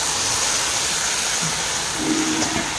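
Hot water seasoned with turmeric and salt hits a hot wok, giving a steady, loud hissing sizzle that holds evenly for a few seconds with no talking.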